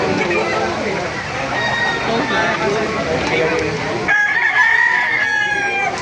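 A rooster crows near the end after a stretch of clucking and background chatter at a market, with people talking throughout.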